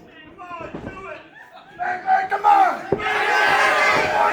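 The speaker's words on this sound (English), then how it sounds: "This crowd really being pulled from both teams here to cheer for him." A wrestling crowd at a tag team championship match cheers and chants, starting as scattered voices and swelling into a loud, sustained roar, with a commentator talking over it.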